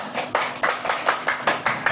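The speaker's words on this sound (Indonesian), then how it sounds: "Tepuk tangan semua" A group at an elementary school claps in a steady rhythm, about eight sharp, evenly spaced beats of applause over two seconds, fairly close and lively.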